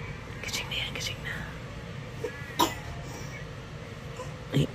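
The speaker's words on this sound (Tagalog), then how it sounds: "Ay, inuubo yata." Someone nearby gives a couple of short coughs, with whispering and soft voices talking over a low background hum.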